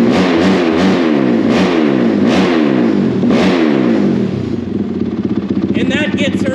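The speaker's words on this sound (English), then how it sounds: "And that gets her to rev up a little faster." A Honda 450R dirt bike engine set to map 8 revs hard in repeated rising and falling bursts, loud and close, before settling to a rough idle while someone talks over it.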